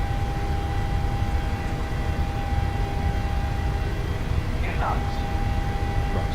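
Airliner jet engines at takeoff power in Microsoft Flight Simulator on an Australian Virgin or Qantas flight, a loud, constant broadband roar with a steady whine tone, unbroken across the whole stretch.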